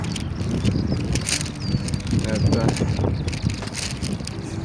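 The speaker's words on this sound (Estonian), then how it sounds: "See tuul on ka päris tugev" Strong wind buffets a camera microphone outdoors during a first-days-at-work vlog, a steady loud rumbling roar through the whole clip under a brief spoken word.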